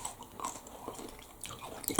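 A single crunchy bite into a Cadbury honeycomb chocolate snack, close and quiet, with a faint crackle followed by brief rustling.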